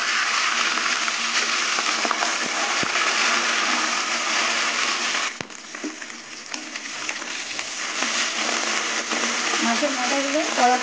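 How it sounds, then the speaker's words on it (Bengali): Fish heads fry in hot mustard oil in a pan, a dense close sizzle that runs throughout, dipping briefly midway and picking up again, with faint clinks. "তেল গরম হয়ে গেছে, এবার মাথাগুলো ভেজে নেব।"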